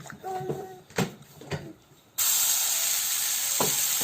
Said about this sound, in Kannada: ಈ ಮಸಾಲೆ ನಾವು ಸ್ವಲ್ಪ ಫ್ರೈ ಮಾಡ್ಕೋಬೇಕು